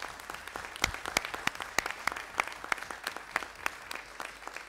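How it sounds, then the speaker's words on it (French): Scattered applause at a municipal council meeting: a modest group clapping in distinct, uneven claps, fairly faint and somewhat distant, continuing for several seconds. "Je vous demande aussi de l'applaudir très fort."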